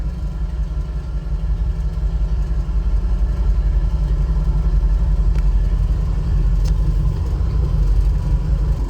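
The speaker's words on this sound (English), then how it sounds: "So now let's go take the car for a drive and see how it actually performs under drive tests." A 1964 Ford Galaxie 500 V8 with a newly fitted carburetor rumbles steadily while driving, a deep, even engine drone heard from inside the car with no talking.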